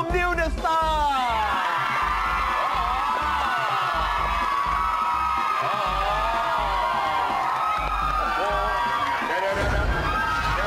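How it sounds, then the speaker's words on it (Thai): A fan club crowd of young people cheering for a contestant on a Thai show, with loud, sustained shouting, whoops and screams filling the space, and an announcer talking over it. "วันนี้ก็รู้สึกมีแฟนคลับมาเชียร์ด้วยเหมือนกันนะครับ"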